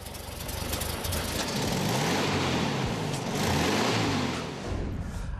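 A VW Beetle 1303 convertible with a rear-mounted air-cooled 1.6-liter Boxer engine drives past, its engine note swelling and sweeping in pitch as it accelerates and revs, loud and close, then easing toward the end with no speech.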